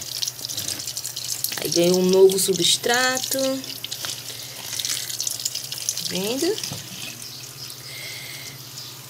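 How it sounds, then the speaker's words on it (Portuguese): Water trickles and drips steadily through fresh potting substrate in a newly repotted pothos, a soft continuous draining sound close by, with someone speaking Portuguese over it. "Ó lá, descendo todinha a água lá embaixo, ó."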